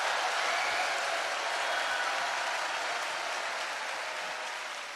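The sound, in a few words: audience applause, clapping hard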